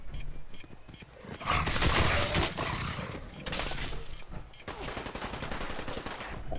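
Gunfire in Fallout 4 survival mode: dense, loud bursts of rapid shots crackle across most of the stretch, easing off briefly in the middle before resuming, with no clear talk over it.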